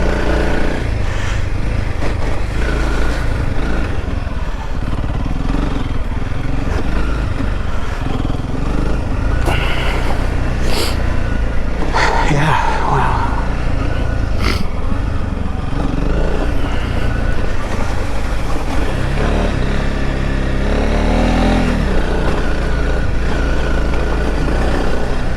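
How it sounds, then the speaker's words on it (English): Honda CRF300L Rally motorcycle accelerating hard with its rear tire spinning and sliding, a loud, steady engine roar that stays close throughout with brief revving swells, heard on its own. "Get on the gas and it starts spinning the tire and slides the end around."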